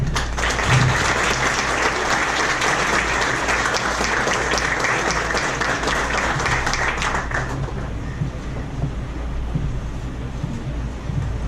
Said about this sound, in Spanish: pido un fuerte aplauso para la doctora Norma Lidia Díaz García